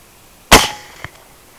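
A single suppressed shot from an LWRC 6.8 rifle fitted with a thread-on Gemtech .30 caliber can, fired at night on a boar hunt, makes a sharp muffled crack with a short tail and then a faint distant thump.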